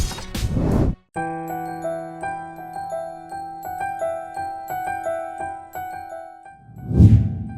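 A bright bell jingle rings out in a quick sequence of tinkling chimes, clear and near, bracketed by short bursts of whooshing noise.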